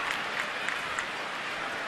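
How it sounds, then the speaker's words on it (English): Large baseball stadium crowd at a Marlins–Nationals game giving a steady, broad roar and murmur, a sustained groan-like swell from thousands of fans at middle distance with no distinct individual voices. "the crowd groaned when that ball got by Bryce Harper"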